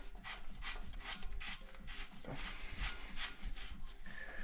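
Bottom bracket being threaded by hand into the frame of a 24-inch retro freeride hardtail bike, a close, quiet, continuous metallic rubbing and ratcheting scrape as the part turns in.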